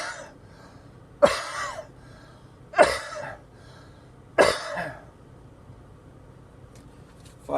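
Three sharp coughs spaced a second or so apart during a COVID-19 test, close and clear against a quiet background, with another starting at the end.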